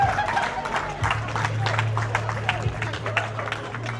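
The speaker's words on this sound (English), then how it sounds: "Everyone's cheering at the moment." A crowd at a protest in Crowborough claps and cheers in a steady rolling wash under a steady low hum, with a nearby voice talking over it.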